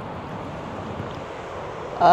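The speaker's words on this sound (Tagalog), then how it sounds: "Lakas ng hangin lang dito." Constant strong wind rushing past at Paraparaumu Beach, New Zealand, at moderate level, a broad steady hiss and rumble, with a sudden louder burst right at the end.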